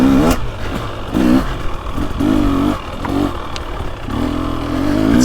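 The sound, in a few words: 2023 KTM 300XC dirt bike engine lugging in third gear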